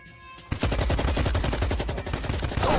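Loud, sustained automatic gunfire rattles in an animated Chinese action series as soldiers open fire on mutants, a dense burst of rapid shots that begins after a brief quieter moment and continues without a break.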